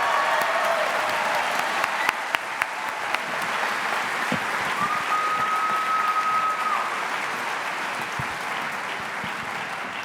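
A school audience at a middle school fine arts festival claps in sustained, full applause that stays steady for about ten seconds, with a brief faint whistle-like tone rising over the clapping.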